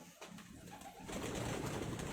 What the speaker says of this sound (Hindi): बड़ा अच्छा कबूतर है जी